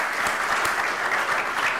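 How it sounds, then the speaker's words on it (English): A conference audience claps in steady, sustained applause throughout, a dense even patter of many hands. "So let's give him a round of applause."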